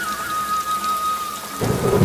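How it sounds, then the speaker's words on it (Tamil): Steady rainfall pours down in a rainy forest with a rumble of thunder rolling in near the end, loud and close, with no voices over it. "ஆஹா, மழை எவ்வளவு அழகா இருக்கு"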